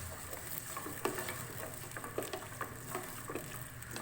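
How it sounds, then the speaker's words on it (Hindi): Garlic-ginger paste frying with mutton pieces on a high flame for mutton paya, a faint steady sizzle with occasional scraping stirs and soft patter. "लहसुन अदरक का पेस्ट डालूंगी और इसको हाई फ्लेम पे अच्छी तरह से लहसुन अदरक के साथ भूनूंगी"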